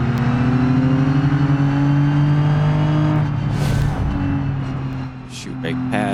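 A six-cylinder car engine in BeamNG holds a steady, loud drone that shifts in pitch, then dips as the car slows and picks back up, with someone talking over it.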